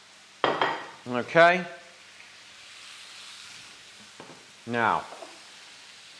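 Sausages sizzling in a pan for a spiced sausage tray bake, a soft, steady hiss that sits faintly beneath a man's brief speech and continues in the pauses.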